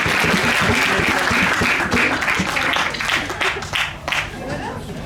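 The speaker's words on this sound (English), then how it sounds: "that was applause" Music festival audience applause rings out loud and full, then thins into scattered claps as a voice begins speaking over the tail.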